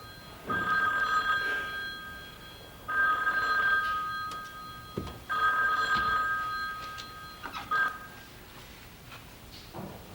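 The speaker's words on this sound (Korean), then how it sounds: "전화부터 받도록 해라." An old telephone bell rings in three long bursts with short pauses between them, a brief fourth ring after them, loud and close in a 1983 Korean TV drama scene.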